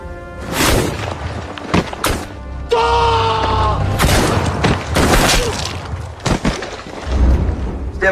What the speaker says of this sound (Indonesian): Tembakan beruntun pun tak dapat terelakkan